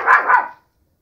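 A dog in a backyard gives a quick double bark, two close sharp yaps in half a second, followed by silence.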